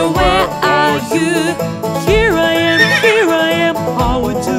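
A horse neighs in a children's nursery rhyme, a sung, stylized whinny over steady, loud backing music with rising and falling pitch sweeps throughout.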